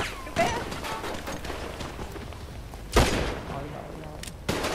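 Sharp gunshot bursts from GTA 5, a few loud cracks with fainter shots between, with a voice talking over the action.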